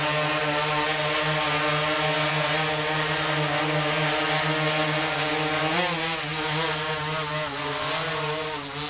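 A DJI Inspire 2 drone in flight gives off a loud, steady whining buzz of rotors with layered tonal hum that shifts pitch slightly partway through, close and sustained without speech.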